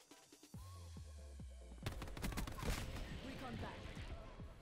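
Bursts of gunfire in Black Ops 4 crack out repeatedly, dense and rapid, growing louder midway through, with voices talking over the shooting.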